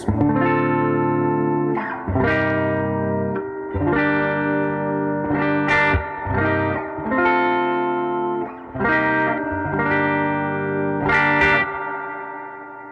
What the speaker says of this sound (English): Now I'm sure you can hear how long and lush the decay on that reverb is